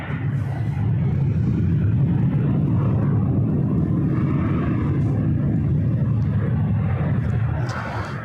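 An airliner takes off from runway 24 left at LAX at sunset, a steady broad jet roar that fills the whole stretch with no voices.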